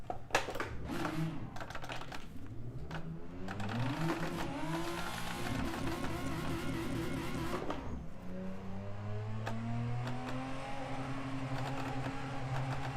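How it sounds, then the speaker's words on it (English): Car engine in a VR racing game drifting at night, a steady droning growl with rising and falling pitch sweeps and revving, continuous and fairly loud with clicky keyboard-like taps mixed in, no talk. "We'll drift at night."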